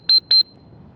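A dog handler's whistle gives two short, sharp high-pitched blasts in quick succession.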